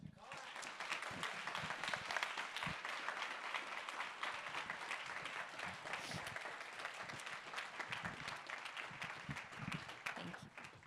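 Steady audience applause fills a lecture-hall event honoring a rabbi speaker, a dense continuous patter of clapping with scattered louder claps, holding at an even level throughout.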